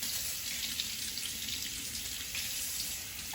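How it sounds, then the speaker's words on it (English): Steady running tap water at a sink while hands are washed, a constant close hiss lasting throughout with no voices. "I've got to wash my hands now."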